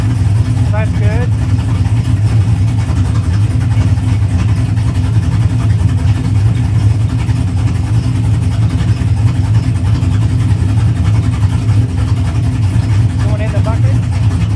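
Pontiac GTO engine running steadily at about 900 RPM idle during tuning, a loud continuous low rumble held close throughout with no clear revving and faint voices in the background.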